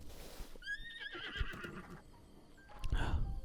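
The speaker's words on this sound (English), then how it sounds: "Some more lovely horses as well." A horse in the video game The Legend of Zelda: Breath of the Wild whinnies in a shrill, descending neigh, followed by snorting and a second shorter whinny, close and fairly loud.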